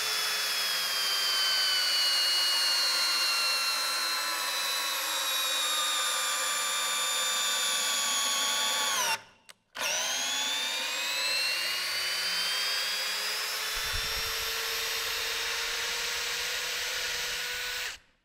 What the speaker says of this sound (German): wir werden jetzt mal richtige Schrauben reindrehen, und zwar die großen